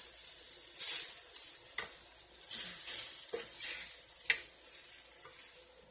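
Pork lo mein noodles sizzle steadily in a hot pan while being stirred and mixed, with scraping clicks of the utensil on the pan over a constant frying hiss; no talking.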